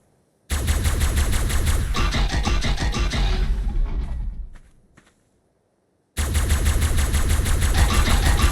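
A gun fires in rapid sustained bursts at a creature in an Ark survival game on the Sanctuary map, a dense loud stream of shots that stops, leaves silence, then resumes.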